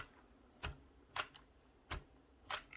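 Keys on a Trust GXT 830-RW gaming keyboard are pressed several at once, giving four faint, separate clacks spaced roughly evenly apart with no talking.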